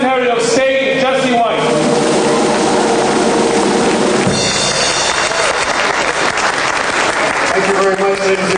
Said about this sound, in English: We'd like to give a round of applause and a special thanks to none other than Secretary of State.